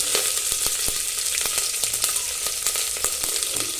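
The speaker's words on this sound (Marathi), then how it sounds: "छान असे परतून घेणार आहोत" Onion with curry leaves, green chili and garlic sautéing in a hot pan, a steady close sizzle with regular scraping stir strokes cutting through about twice a second.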